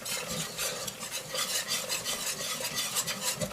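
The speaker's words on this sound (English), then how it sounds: "you just dump in your flour spice mixture and stir that around" A flour and spice mixture stirred around in a hot pan: a soft, continuous scraping with a light sizzle underneath, fairly quiet and without voices.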